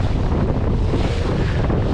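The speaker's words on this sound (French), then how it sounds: "le vent a donné un petit peu pour nous permettre de rentrer à la voile" Wind and waves rush steadily against a sailboat heading back under sail at about six knots, a loud continuous roar of buffeting wind across the microphone with no talking.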